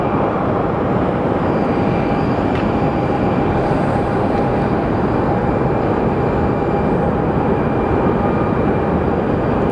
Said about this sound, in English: I think this is the Honeywell Aviation Embraer